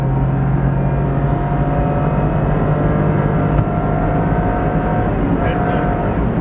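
A 1993 Suzuki Every van with a three-speed transmission accelerating with the throttle floored, a steady loud engine drone and road roar throughout, close and continuous with no talk.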